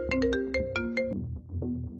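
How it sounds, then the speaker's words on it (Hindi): Phone ringtone: a short, bright melodic tune of quick rising notes that plays once and then starts again, loud and close with nothing else over it. "फोन आया।"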